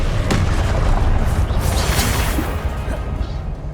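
A Confringo blasting spell goes off in Hogwarts Legacy as a loud, dense boom that swells and rumbles on as a sustained crashing roar, with bursts of debris-like crackle throughout.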